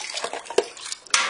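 A Goliathus regius beetle larva rearing box being washed out in water: quick splashes, sloshing and light clattering of plastic, close and busy for a brief moment.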